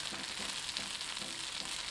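Vegetables fry in a pan with sardines and bihon rice noodles, a brief, faint, even hiss of sizzling oil with no talking.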